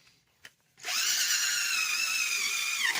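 After a brief quiet tap, a wire brush on an electric drill spins up against the oil pan of a Geo Metro 1.0, holding a loud, steady, high whirring scuff close up for the rest of the moment.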